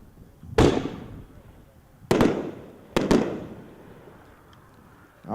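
A Starr Fireworks Double Thump shot at a dealer show goes off in sharp, booming reports: a single thump, then two quick double blasts, each followed by a rumbling echo outdoors.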